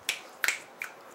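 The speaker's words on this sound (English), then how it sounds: "Go ahead, clap it in." Three soft, sparse claps a few tenths of a second apart, close and crisp against a quiet room, with no talk.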